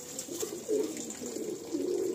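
Close, throaty coos from a purple-backed breeding pigeon with blue, gold-ringed eyes come in several swelling phrases, each louder burst rolling into the next.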